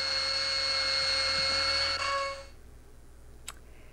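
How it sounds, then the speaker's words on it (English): A dentist's drill in a film scene whines with a steady high-pitched tone for about two seconds, then winds down and stops, followed by one brief sharp tick in near silence. "So, I'll just drill into a healthy tooth until I reach the pulse."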